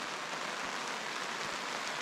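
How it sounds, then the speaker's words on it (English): Steady rain falling at a campsite by a dam, a soft even hiss throughout, faint and distant. "It's raining."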